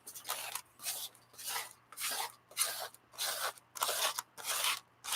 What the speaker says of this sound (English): this part here where you're scraping, the fashion magazines, the inexpensive fashion magazines, those are the ones that you have to be careful when you're scraping over